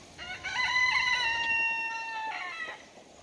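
A broody hen on a farm gives a run of drawn-out, tonal calls lasting about three seconds, close and clear with no talk over them.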